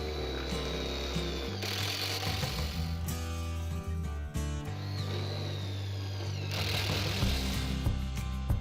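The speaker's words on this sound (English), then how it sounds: "It gets a screw in the top and the bottom." A power driver runs in bursts as screws go into the top and bottom of a greenhouse hat base, whirring steadily with short pauses and clicks between them. It is close and fairly loud, with no talking.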